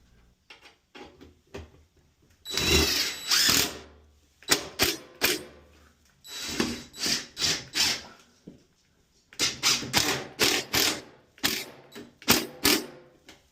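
A power driver sinks two 1 5/8 inch T25-head deck screws into a bathroom exhaust fan housing (Lumary, 110 CFM). Several close, loud whirring bursts with a rattling, clicking texture are separated by short pauses, with no talking.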